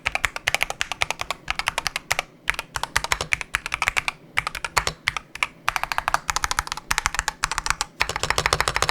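Rapid clacking of a Drunkdeer A75 Pro mechanical keyboard being typed on, bursts of keystrokes with a few short pauses, close and crisp, no voices.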